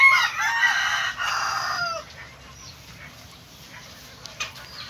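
Chickens cluck and a rooster crows loudly nearby on a provincial farm, the calls strong for the first two seconds before fading to quieter scattered clucks over faint background noise.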